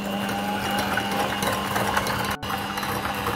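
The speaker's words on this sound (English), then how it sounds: "So I'm going to mix it with my mixer," An electric mixer whirs steadily and close up while beating sugar, vanilla extract and egg yolk, a continuous motor hum with one brief cut near the end.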